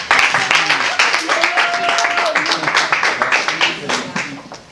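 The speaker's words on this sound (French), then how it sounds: "j'aimerais avec vos applaudissements qu'on accueille M." Audience applause welcoming a guest speaker Emmanuel Boulamatari at a Benin international volunteer association event: dense, steady clapping from a crowd, sustained and fairly loud throughout, with some voices mixed in.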